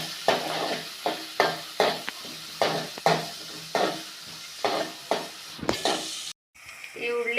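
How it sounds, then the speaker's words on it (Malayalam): Chopped green chilli, curry leaves and onion sauté in a pan for a clam roast, with a spoon scraping in steady strokes about twice a second over a soft sizzle, ending in a brief pause. "അരിഞ്ഞു വെച്ച പച്ചമുളക്, കറിവേപ്പില, ഉള്ളി, ഇതെല്ലാം കൂടെ നമുക്ക് നന്നായിട്ട് വാട്ടിയെടുക്കാം."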